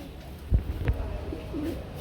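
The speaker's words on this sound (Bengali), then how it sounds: "কবুতর মাশারা খুব সুন্দরভাবে ডাকাডাকি করে" Pigeons coo softly nearby, low murmuring calls over a faint background, with a couple of brief louder thumps.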